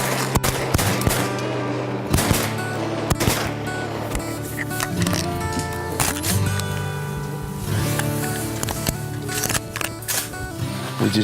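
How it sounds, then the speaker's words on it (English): Rapid volleys of shotgun blasts fired at a flock of teal ducks ring out across a hunting spot, sharp loud cracks spaced irregularly over a steady low background rumble. "we got some shots off and knocked 2 of them down"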